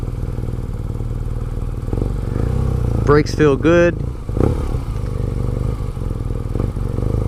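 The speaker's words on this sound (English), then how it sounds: "Has a very aggressive exhaust note. The bike sounds mean." A 2018 BMW Urban GS motorcycle rides along with a steady engine and exhaust drone, briefly revving with a rising whine before settling, while the rider talks over it.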